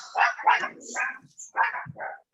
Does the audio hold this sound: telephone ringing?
no